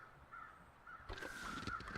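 Several crows caw in a snowy wilderness in the survival game The Long Dark. The calls come in a repeated, fairly close run over a steady backdrop of wind.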